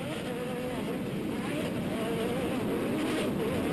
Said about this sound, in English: you can hear Cameron miss a gear right there